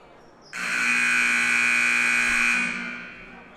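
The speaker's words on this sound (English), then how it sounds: "Buzzer about to go off, clock at 10 now." A basketball game buzzer at a Landrum vs. Woodruff border tournament sounds one loud, steady electronic tone for about two seconds before cutting off, heard alone without talk.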